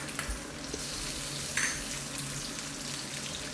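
Tofu stir-frying with chili paste, oyster sauce and soy sauce in a pan gives a close, steady sizzle broken by a few scraping stirs, with no talk.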